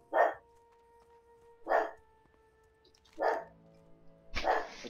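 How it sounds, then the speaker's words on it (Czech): Four separate loud barks from a dog come at even intervals of roughly a second and a half, with a faint steady tone running behind them and no voices. "Jestli slyšíte, jak štěká pes, tak slyšíte správně, štěká pes."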